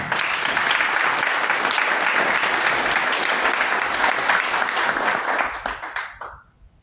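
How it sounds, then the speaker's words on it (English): An audience at a demo night presentation gives a full, steady round of applause that fades out over the last second. "Well, let's give her a round of applause."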